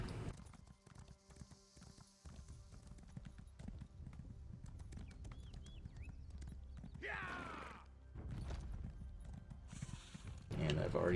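Steady clip-clop of horse hooves with an occasional whinny, mixed with sound effects from the video game Elder Scrolls Online and a voice talking over it.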